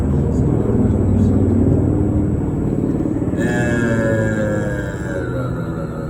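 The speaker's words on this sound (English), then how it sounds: "Just a helicopter." A steady low engine rumble of a helicopter passing overhead, loud and sustained, with a faint higher whine entering partway through.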